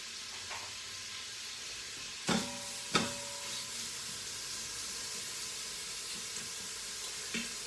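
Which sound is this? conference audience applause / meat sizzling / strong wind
meat sizzling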